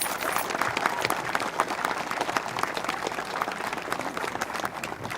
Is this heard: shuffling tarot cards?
no